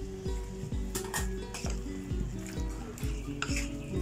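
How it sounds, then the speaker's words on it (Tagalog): A spoon stirs garlic powder and Himalayan salt into chicken oil in a pot, making rhythmic scraping strokes with repeated metallic clinks against the sides, loud and close. "Mix lang natin mabuti."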